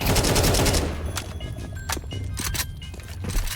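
Rapid bursts of gunfire in Counter-Strike 2, a dense volley at the start followed by several sharp, separate shots and faint footsteps, with no speech.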